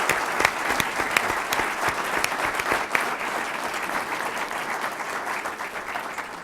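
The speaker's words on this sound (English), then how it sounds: "Let's give them another round of applause," A conference audience at an ethics event gives panelists a sustained round of applause, with many hands clapping in a dense, even wash that holds steady throughout.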